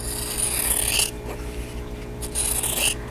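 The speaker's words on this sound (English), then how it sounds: "my shears here, and I'm going to cut 1/4 inch away from the seam I just sewed" Fabric shears cutting cloth a quarter inch from a freshly sewn seam: two close, raspy snipping strokes with a short quiet pause between them.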